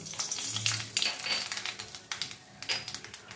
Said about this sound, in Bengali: এবার মাছ ভাজা তেলের মধ্যে সবার প্রথমে আমি শুকনো লঙ্কা আর সর্ষেটা ফোড়ন দেব।